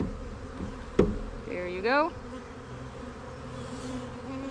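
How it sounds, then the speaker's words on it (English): A dense, steady drone of many honeybees swarming over a hive frame during garden beekeeping, close and continuous, with a sharp knock and a brief scraping squeal, and a short spoken phrase over the buzz. "There's so many bees on this frame."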